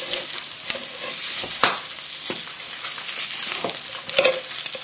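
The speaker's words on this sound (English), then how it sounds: "using a fork and pressing against the side of the pan, you can see this, just lightly crushing them" A fork presses and lightly crushes food against the side of a sizzling pan while a trout with tarragon cream sauce is cooked, a steady close sizzle punctuated by a few sharp scraping clicks.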